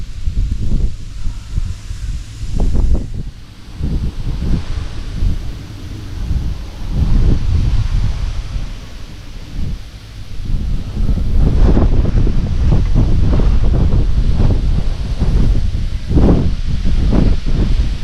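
Strong coastal wind buffets the microphone on the UK east coast during sea fishing, loud gusts rising and falling in waves with rushing surf underneath, no voices.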